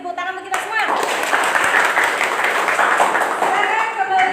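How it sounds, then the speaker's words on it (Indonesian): A class of students claps hands together in a classroom, a dense patter of many small hands lasting several seconds at steady loudness, with voices mixed in. "terima kasih, tepuk tangan untuk kita semua"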